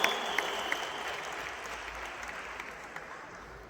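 An audience at a Hindi-language talk bursts into loud, steady applause, a thick continuous wash of clapping with a few sharper individual claps standing out, gradually easing off.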